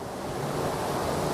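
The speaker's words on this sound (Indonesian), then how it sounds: "Ya gara-gara ombak ini." Ocean waves break near coastal houses in Lampung, a steady, broad roar of surf washing in, loud and continuous with some wind rumble and no voices.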